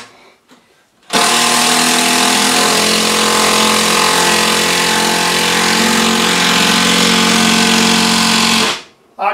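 A small cordless NiCad screwdriver drives a long screw into a shop shelf, with a loud, close, continuous motor whine lasting about eight seconds before it abruptly stops.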